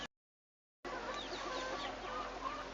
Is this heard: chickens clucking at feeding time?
yes